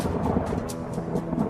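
A dangerous thunderstorm rumbles steadily, with deep thunder and wind-driven noise filling the sky around an aircraft trying to land, continuous and loud without any voices.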